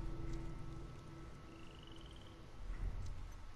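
A frog croaks faintly in a night-time scene of the video game The Last of Us Remastered, a short run of calls set against a quiet, constant ambient bed.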